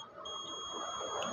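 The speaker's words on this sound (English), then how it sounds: "then the buzzer will be there, sound will be there" A multimeter's continuity-test buzzer sounds a steady, unbroken high-pitched tone for the whole moment, faint and alone, confirming a closed circuit.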